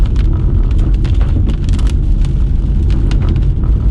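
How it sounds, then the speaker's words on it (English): Steady, heavy rain noise roars close to the microphone up high in the mountains, with a dense rumble and scattered crackling hits throughout. "Sorry about the rain noise. I did not know it was going to be raining up here."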